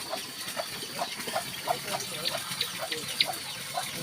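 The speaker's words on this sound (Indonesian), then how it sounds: "Air pancuran ya sahabat." Water pouring from a spout in a village beside rice paddies, a steady splashing gush running throughout, with bird chirps dotted over it.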